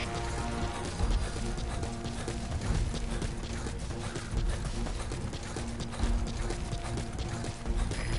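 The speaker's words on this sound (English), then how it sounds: "Planning to walk the whole wilderness on foot? Use your horse." Horse hooves clip-clopping in the Metal Gear Solid V video game, a steady run of soft rhythmic hoof falls over a dense, noisy in-game background, continuing evenly throughout.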